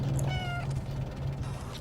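In the video game Stray, a small cat gives a few short meows over a low, steady mechanical hum in an enclosed city space, with no speech.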